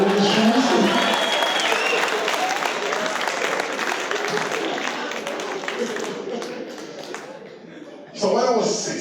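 Comedy club audience applauding at a stand-up show, a sustained broad wash of clapping that slowly fades, with a brief louder burst near the end and faint talk mixed in.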